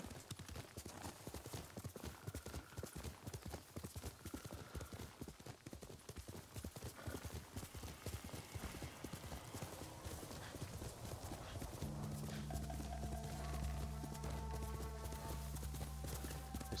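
Horse hooves pound rhythmically in Ghost of Tsushima, a fast, steady galloping clip-clop carrying on for a long stretch, joined near the end by swelling orchestral game music.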